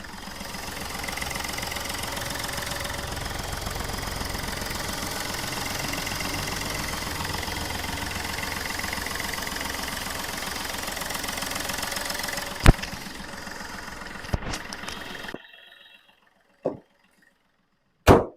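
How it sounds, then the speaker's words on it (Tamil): Close-miked idle of a 2013 Chevrolet Beat diesel engine, a steady clattering diesel rumble that runs evenly for about fifteen seconds, then cuts out, leaving a few isolated knocks and clicks in near silence. "வண்டியோட இன்ஜின் நாய்ஸ் நான் உங்களுக்கு மைக்கை பக்கத்தில் வச்சு எப்படி இருக்குன்றதை காட்டுறேன்"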